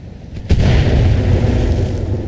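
Mech weapons in the Battletech RogueTech game fire with a sharp onset, then a loud sustained rumbling blast and impact that rolls on for about two seconds.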